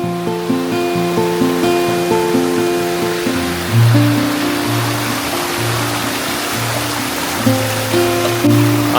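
Steady rush of water flowing down a large rocky cliff near a village temple, a constant broadband roar close by, with a droning tonal hum layered over it and no talk.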